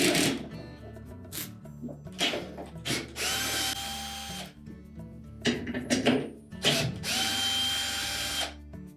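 A power drill backs screws out of a Whirlpool washer during a bearing replacement, with several loud bursts of whining motor rising and stopping, separated by clattering handling noises and short pauses.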